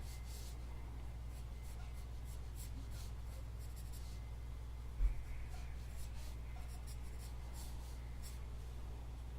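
Pencil sketching an eye on a Loomis-method head drawing, a faint steady scratch of graphite on paper with one soft tap midway, quiet and close with no talking.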